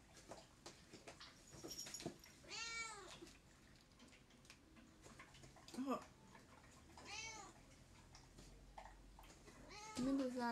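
A cat meows repeatedly in short, rising and falling calls, several distinct cries spaced across the stretch, fairly close, with a person speaking quietly in between.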